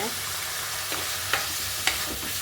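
Sliced onions and tomato fry in a pan, a steady close sizzle with a few sharp scrapes of stirring, and no talk.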